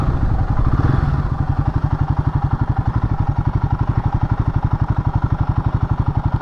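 A Royal Enfield Guerrilla 450 motorcycle engine thumps in a steady, fast single-cylinder rhythm as the bike turns around, loud and close, easing briefly before settling into even pulses.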